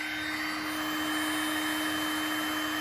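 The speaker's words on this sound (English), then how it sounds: "we go back to the heat gun" A heat gun blows hot air to reheat a hard plastic repair, giving a steady, unbroken whirring hiss with a constant hum and no pauses.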